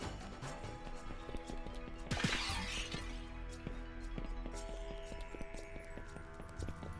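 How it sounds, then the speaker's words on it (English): A clay pot shatters in a video game, one sharp breaking crash over steady game music and ambience, with scattered clip-clop-like taps around it. "Love a good pot shattering sound."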